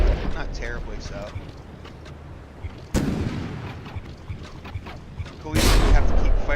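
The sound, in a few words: warship guns firing volleys in From the Depths video game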